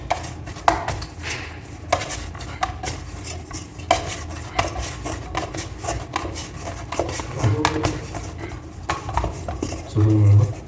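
Oil being mixed by hand into puff pastry dough for bakery-style chicken puffs, giving a steady run of soft squelching, rubbing and tapping against a bowl, close and fairly loud with occasional sharper knocks.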